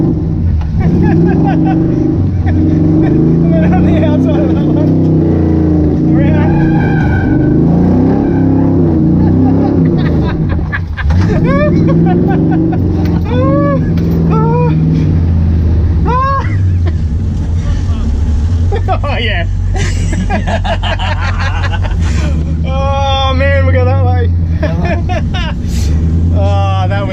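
An LS1 V8 swapped into a Toyota AE90 Corolla driven hard on a skid pan, its loud engine roaring and revving continuously with rising and falling pitch sweeps, while people talk excitedly over it.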